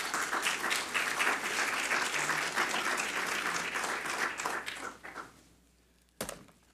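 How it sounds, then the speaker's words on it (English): Seminar audience applauding after three presentations, dense steady clapping from a crowd that thins out and fades, ending with a few scattered claps. "Please join me to give a big round of applause"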